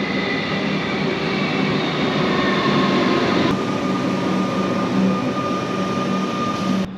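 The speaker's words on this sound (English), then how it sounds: "Fingers crossed he's on this train." A train pulls into a station near Melbourne with a steady, loud rumble and rail hum that holds throughout, steady and close, with no voices over it.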